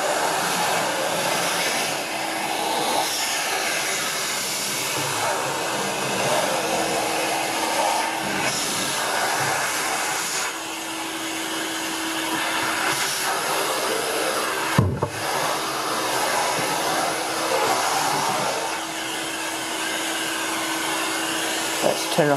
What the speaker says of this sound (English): Let's turn off the vacuum.